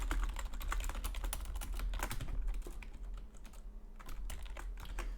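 Rapid clicking of a computer keyboard while someone types code for a homemade C# operating system with a mouse-driven graphical interface, the keystrokes steady and close for the whole stretch with a short lull near the middle.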